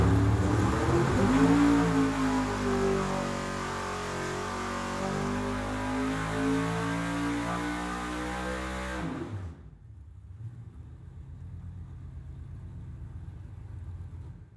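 A naturally aspirated 1,200 HP race engine, just given a leaner jet change, roars loudly at high revs, its pitch climbing and holding. It then cuts off abruptly about two-thirds of the way through, leaving a faint low rumble.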